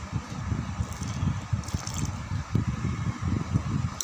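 Water is poured into flour for poori dough, splashing and gurgling steadily, close by, with soft wet mixing noises and occasional drips.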